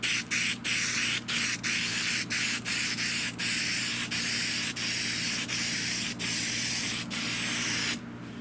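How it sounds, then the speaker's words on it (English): Paint sprays in short, repeated hissing bursts, about a dozen quick pulses with tiny gaps, close and loud, while the bottom plate and felt of a 1923 16-inch GE AOU loop-handle fan are coated during restoration. "we're going to spray the bottom plate"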